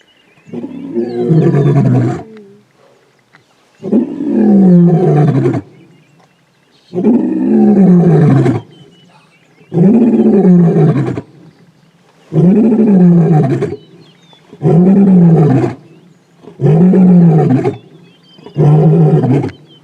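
A male lion roars in a series of eight long, powerful bellows spaced a couple of seconds apart, each swelling and fading in a steady rhythm, loud and close with no other sounds.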